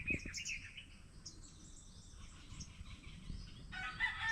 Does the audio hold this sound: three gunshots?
no